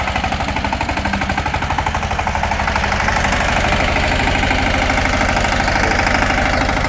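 An AGRI GLOBE180 N1 small tractor engine idles close by with a steady, rapid knocking rhythm, loud and continuous with no talking.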